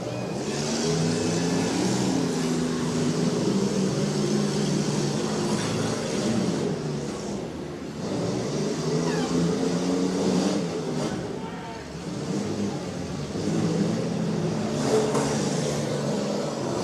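Derby cars at a county youth demolition derby run continuously, engines roaring and revving with metallic crunches and crowd noise, loud and near for the whole stretch.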